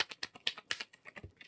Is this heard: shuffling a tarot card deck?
yes